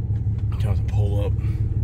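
A Ram pickup truck towing a trailer rumbles with a steady low engine drone as it pulls up, with voices talking over it.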